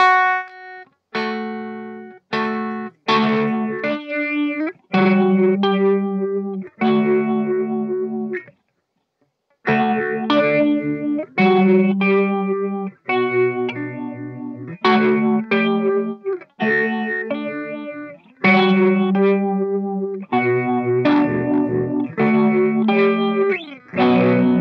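Electric guitar played on a clean tone through a Joyo Meteor amp, picking bright chords and arpeggios with short pauses between phrases, close and clear with a light chorus-like shimmer and no talking.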